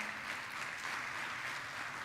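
A church congregation applauds during a sermon, a faint, distant, continuous patter of clapping.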